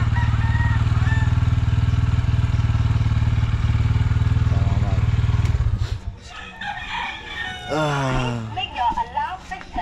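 A motorcycle sits close by with its engine running in a loud, steady low drone that cuts out after about five seconds, leaving scattered rooster crows, clucks and voices in a rural setting.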